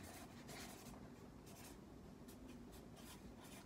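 A pen scratches across paper close up as an answer is written, quiet stroke after stroke in a steady run with no voices.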